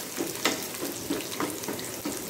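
Two dried red chilies and cumin seeds crackle in hot oil for a tadka, a close, continuous sizzle with soft repeated stirring scrapes and no talking.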